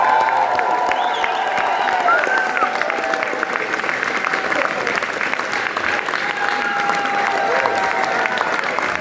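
Concert audience applauding, a dense steady clatter of many hands with some cheering mixed in, loud and sustained throughout, with a voice faintly audible among the crowd.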